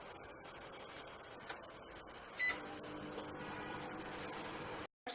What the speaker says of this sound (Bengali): আমি মাইক্রোওয়েভ করব, মাইক্রোওয়েভে দিচ্ছি